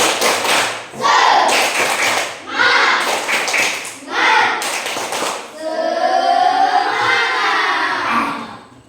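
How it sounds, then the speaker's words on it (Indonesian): An elementary school class stands and does the rhythmic 'tepuk semangat' cheer, with bursts of group clapping in a patterned rhythm of loud claps and pauses, then children's voices chanting together near the end. "Kita tepuk semangat lagi."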